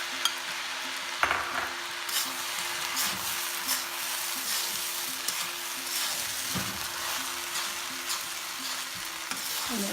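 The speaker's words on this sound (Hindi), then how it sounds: "मैं इसमें 3 टेबल स्पून सोया सॉस डाल रही हूँ।" Egg fried rice sizzles and crackles in a hot pan as soy sauce is added, with steady frying hiss, occasional clinks of stirring, and no talking.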